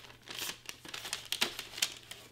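Wrapping paper crinkles and rustles as it is folded one side at a time around a Christmas gift, a close, soft run of crackling paper sounds with no talking.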